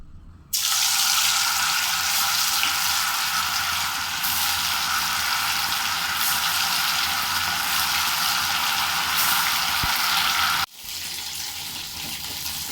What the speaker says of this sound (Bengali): আমি কড়াইতে তেল দিয়ে দিয়েছি, ভেজে নেব।